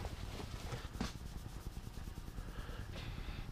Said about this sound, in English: I want a little bit of a polish on it.